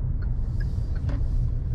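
Steady low road rumble heard from inside a 2021 Kia Sonet Premiere while driving, a continuous muffled drone with faint tire hum and no voices.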